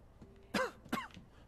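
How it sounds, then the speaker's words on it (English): Two quick, close, harsh coughs in a row, throat-clearing in quality, heard alone in a quiet room. "I'm coughing now"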